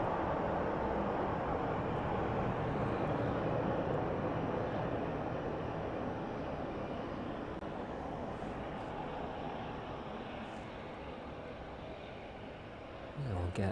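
Boeing 777 taxiing along an airport taxiway at East Midlands Airport in the evening, a steady broadband jet engine rumble and whine that holds constant and fades slightly toward the end.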